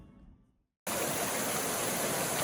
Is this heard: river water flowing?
yes